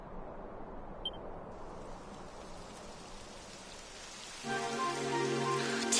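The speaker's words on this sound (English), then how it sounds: "It would have to go and start raining, wouldn't it?" Rain falls in the video game Dragon Quest XI on PS4, a soft steady patter that swells louder near the end, joined by a brief faint tone and musical notes.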